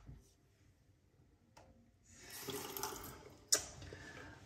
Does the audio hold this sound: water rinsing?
yes